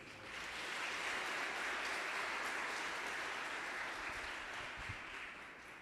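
A church congregation applauds in a steady, dense wash of clapping that fades in and holds for several seconds. It sounds fairly distant and quiet, with no speech over it.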